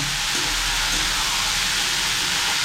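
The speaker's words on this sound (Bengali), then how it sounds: "এবার আমি নেড়ে চেড়ে ভুনে নিব" Red lentil (masoor) dal being stir-fried in a pan, a steady close sizzling hiss that holds evenly throughout with no break.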